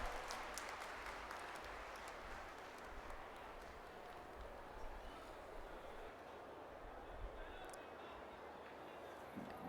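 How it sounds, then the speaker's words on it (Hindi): An audience at a religious discourse event in India applauds to welcome the chief minister, steady dense clapping that stays fairly faint and distant throughout with a murmur of voices. "जोरदार तालियों से स्वागत करें हम सब।"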